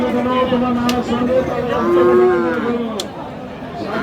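Several cattle, including Friesian and crossbred bulls and calves, moo in long, drawn-out calls, one after another, over a busy outdoor murmur of people and animals at the Raniganj livestock market in Ghoraghat, Dinajpur.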